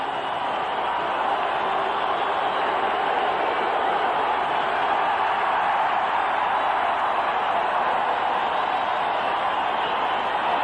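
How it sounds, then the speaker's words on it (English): Stadium crowd at a Pittsburgh Steelers football game roars in a broad, steady wash of cheering that holds at an even level throughout, distant and unbroken. "Listen to this crowd."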